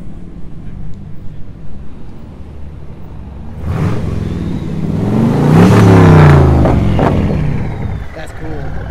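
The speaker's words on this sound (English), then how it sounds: "Then we got a sick Camaro coming in." A Chevrolet Camaro drives in, its engine note swelling to a loud, throaty peak over a few seconds and then easing off, with wind buffeting the microphone throughout.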